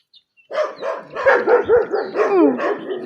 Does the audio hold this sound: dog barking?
yes